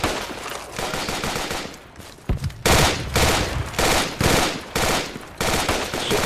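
Gunfire in Project Reality comes as rapid automatic bursts, several loud close volleys broken by short pauses, with quieter shots and scattered fire in between.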